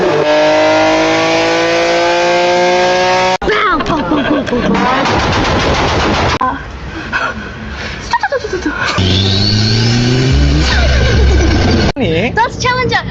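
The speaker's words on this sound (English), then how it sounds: "but it's making car sounds." A car engine revving loudly in a TikTok video, with rising and falling whines, sharp cuts between segments and speech mixed in throughout.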